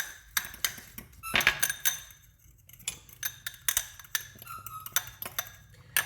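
Lobster seasoning is stirred briskly in a bowl, making a close run of quick, bright clinks and taps of utensil against the bowl in an uneven rhythm, with no voices.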